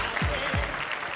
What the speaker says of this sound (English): give yourself a round of applause for all these young folks